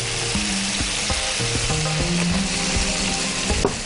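Sliced onions fry alongside meat slices in hot oil, a loud, close, continuous sizzle with crackles and the scrape of stirring, no voices.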